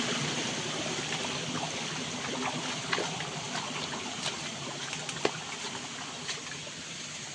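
A small spring stream trickles below a forest path in rural Konkan, a faint, steady watery rush with occasional brief splashes and drips.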